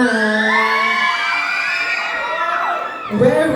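Pageant audience cheering, whooping and shouting in a loud, steady crowd roar, with high excited voices rising and a burst of louder shouts near the end.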